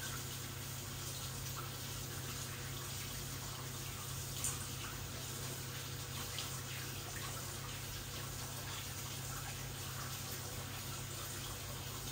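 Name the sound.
washing ginger and lemon under running water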